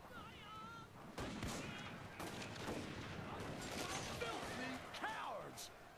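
Tosa riflemen firing in a Total War: Shogun 2 battle: a continuous crackle of musket volleys and distant booms, steady throughout, with faint shouts and a few rising whistle-like tones layered over the gunfire.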